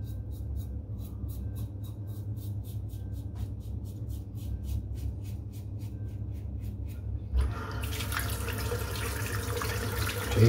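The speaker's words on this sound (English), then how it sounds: "So I'm just going to rinse the razor off today. Just use warm water." A tap runs warm water to rinse a razor during a wet shave. A steady hiss of water continues throughout with a faint ticking pattern over it, then swells louder and brighter near the end.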